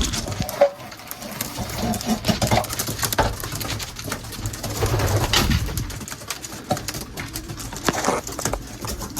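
Racing pigeons coo in a loft with repeated soft, throaty calls, alongside fluttering, shuffling and pecking sounds at close range.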